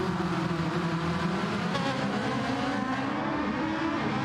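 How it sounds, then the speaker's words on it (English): A Ferrari race car engine drones and revs steadily as the car races through a hairpin at a Ferrari E Challenge event, heard at moderate distance without talk. "slides the Ferrari into the hairpin"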